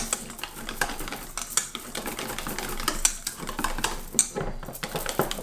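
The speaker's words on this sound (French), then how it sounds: "Et là, maintenant, je vais prendre mon fouet. Hop. Voilà. On va mélanger tout ça." A whisk beats cream with gelatin in a bowl, quick irregular clicking and scraping strokes against the sides, close and fairly loud, with no talking.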